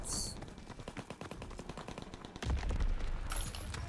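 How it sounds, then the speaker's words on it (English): Rapid automatic fire from an M3 grease gun submachine gun in Call of Duty: WWII beta gameplay, a steady rattling burst of closely spaced shots with a heavier, louder stretch toward the end. "Ooh, grease gun."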